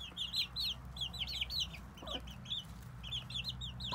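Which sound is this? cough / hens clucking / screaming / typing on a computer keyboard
hens clucking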